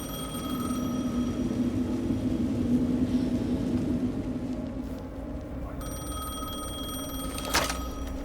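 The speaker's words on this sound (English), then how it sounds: "The phone again." A telephone rings in the video game Alan Wake 2, with a steady electronic ring under a low ambient drone.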